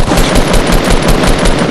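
Rapid automatic gunfire from the video game Fortnite, a dense, continuous burst of shots rattling loudly for under two seconds with no talk over it.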